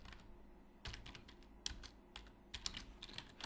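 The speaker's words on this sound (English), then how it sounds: "then you can type in an info text" Quiet typing on a computer keyboard while entering text in MATLAB Live Script, with scattered key clicks in short bursts and pauses, close but faint, no voices.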